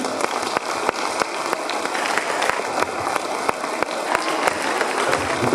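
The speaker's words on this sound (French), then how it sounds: "On peut applaudir le dormeur d'aujourd'hui." Audience applause for a volunteer waking from stage hypnosis at a talent contest in Wavrin, dense clapping with sharp individual claps standing out, steady and fairly close throughout.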